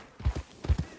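Hooves of a horse clip-clop in Red Dead Redemption 2, two pairs of close, dull thuds in a steady trotting rhythm.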